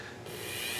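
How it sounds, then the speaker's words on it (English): A Dremel rotary tool cuts perpendicular lines into wood, making a brief, steady abrasive grinding hiss that swells slightly louder partway through, close up and alone. "the first thing I'm going to do is my Dremel work, which entails just basically"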